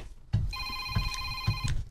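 A cellphone rings with an incoming call, a bright electronic ringtone of steady tones repeating over about a second and a half, fairly close and clear with faint background noise.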